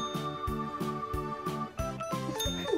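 A hanging training bell jingles repeatedly as puppies paw at it, a steady run of bright metallic tinkles at close range with no talking.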